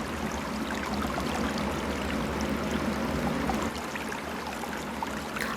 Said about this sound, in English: I will wash it with warm running water.